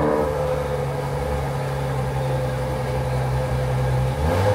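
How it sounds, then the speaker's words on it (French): Ferrari V12 engine, loud and close, with a steady sustained drone and no clear rev peaks. "C'est quand même incroyable de commencer à travers un V12 chez Ferrari."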